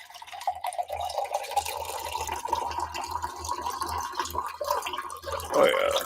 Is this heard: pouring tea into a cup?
yes